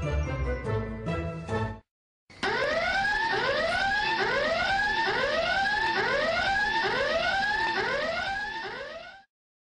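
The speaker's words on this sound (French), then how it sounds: "Thibaut, pourquoi as-tu déclenché l'alarme des secrets?" A chiming electronic tone plays first, then after a brief silence the Secret Story secrets alarm sounds in the Sims, a loud repeating rising siren that sweeps up over and over for about seven seconds before cutting off.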